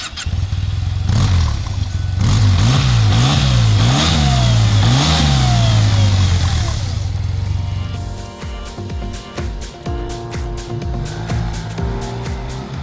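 A Yamaha T-Max 530 scooter engine, driven through a belt and variator, revs hard while accelerating in rising and falling surges, then settles into lower, choppier throttle blips and idle.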